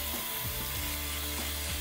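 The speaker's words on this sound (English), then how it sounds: "Basically just scrub this with your pad, turn your water on," A foam polishing pad scrubbed under running water, giving rhythmic ratcheting rubs and squeaks over a constant hiss of flowing water.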